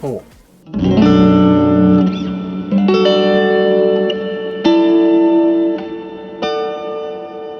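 Electric guitar through a ZOOM MultiStomp MS-50G reverb with long decay, delayed pre-delay, cut tone and raised high damp: a few sustained strummed chords ring out with lush, lingering reverb tails, loud and alone.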